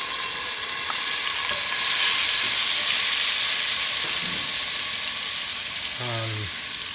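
Garlic sizzles loudly in a hot pan while cooking vegetables for clam chowder, a continuous bright frying hiss with occasional stirring scrapes.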